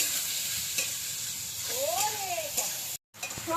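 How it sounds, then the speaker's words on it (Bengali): Soybean chunks with turmeric and salt fry in a pan, giving a steady sizzle with close stirring scrapes and one brief squeak. "সোয়াবিনটাকে এবার ভেজে নিতে হবে।"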